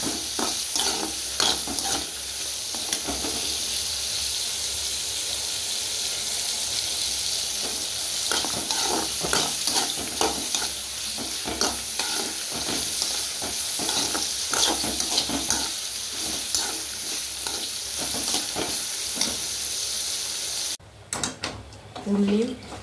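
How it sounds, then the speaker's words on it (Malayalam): Onions and chillies fry in a pan with a continuous crackling sizzle. Frequent scraping stirs of a spoon run throughout, and the sound briefly cuts out and resumes near the end. "ഉള്ളിയും മുളകും മൊരിയാൻ വെച്ചിട്ടുണ്ട്."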